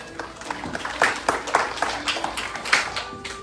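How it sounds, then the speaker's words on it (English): Devotees at a Hindu temple Ramayan yagya event applaud, a brief burst of close, moderately loud clapping from a small crowd with distinct individual claps. "Please give yourself a big round of applause."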